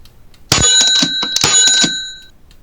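A green time clock box sounds a bright, ringing bell right after a time card is punched, with two quick rattling strikes close together that leave a shimmering metallic tone fading out, alone and loud.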